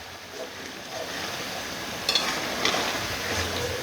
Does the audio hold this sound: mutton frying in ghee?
yes